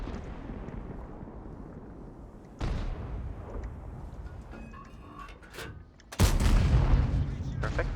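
Tank cannon shots from an EBR 105 wheeled vehicle in World of Tanks, with booming blasts at about 2.6 and 6.2 seconds over a steady rumbling game backdrop, the second shot louder and closer.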